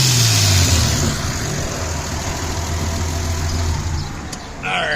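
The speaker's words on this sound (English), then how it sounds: "give her a little rev" A Nissan 280ZX engine runs close by, starting with a brief rev that settles into a steady idle rumble, then a slight rise near the end.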